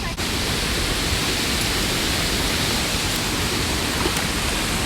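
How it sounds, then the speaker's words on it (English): Waterfall with rushing water, a loud steady broadband roar of falling water close by, unbroken for the whole stretch. "this waterfall is weak"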